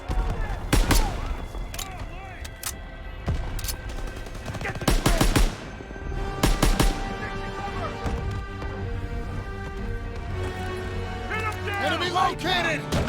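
Call of Duty: World War II gameplay with machine gun fire in repeated sharp bursts, interspersed with single cracking shots over a steady background of game ambience and music, loud and close throughout.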